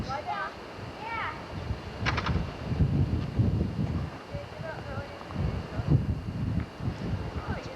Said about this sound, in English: It's pretty breezy out, actually.